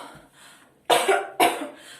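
Two sharp, loud coughs about half a second apart, close by, with a faint voice murmuring before them.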